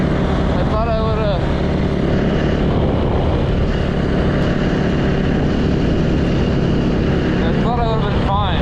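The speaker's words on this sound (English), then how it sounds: "I'm on a dirt bike, not going fast." A rebuilt Yamaha YZ450 dirt bike engine drones steadily and loudly at an even, low speed with a rough, wind-buffeted roar throughout, while a rider's voice is partly masked beneath it.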